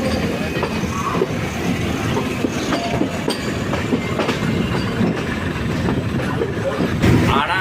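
A night mail express train in Sri Lanka, on the Colombo–Trincomalee line, rolls steadily along the rails with continuous rumbling and clickety-clack wheel noise, loud and close throughout, with a brief brighter wheel squeal near the end.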